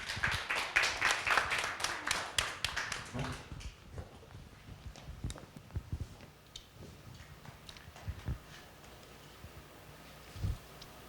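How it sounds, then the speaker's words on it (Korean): Audience applause at a Gwangju relay science lecture: a dense burst of clapping for about three seconds, then thinning to scattered claps over quiet room noise. "여러분 큰 박수 부탁드립니다"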